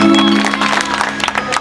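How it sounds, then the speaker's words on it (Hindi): A crowd at a BJP rally with Pawan Singh breaks into loud clapping. Scattered, uneven claps follow a held musical tone at the start. "जोरदार ताली बजाओ।"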